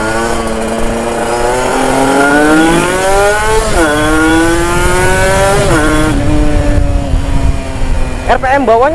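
Kawasaki Ninja RR 150 two-stroke motorcycle ridden at night on a bumpy road, its engine buzzing loud and close with rising and falling revs and gear changes, a voice talking over it.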